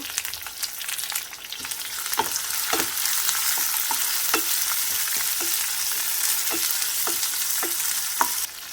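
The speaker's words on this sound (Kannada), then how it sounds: "ಈರುಳ್ಳಿಯನ್ನು ಟ್ರಾನ್ಸ್ಪರೆಂಟ್ ಆಗುವವರೆಗೆ ಫ್ರೈ ಮಾಡಿಕೊಳ್ಬೇಕು." Chopped onions fry in oil over a low flame, a steady soft sizzle running throughout, punctuated by a dozen or so sharp scrapes and taps of a spoon stirring the pan.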